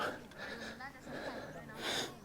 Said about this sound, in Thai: ยังหอบอยู่